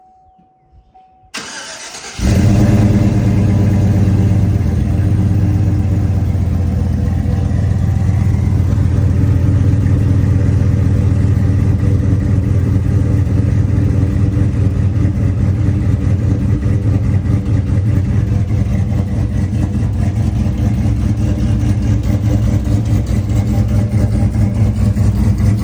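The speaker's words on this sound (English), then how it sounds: "we're gonna give you guys a little idle clip to show you guys what it sounds like with the new muffler" A turbocharged Chevrolet Tahoe with a new muffler fires up and settles into a steady, deep idle that stays loud and close for a long stretch, with no talking over it.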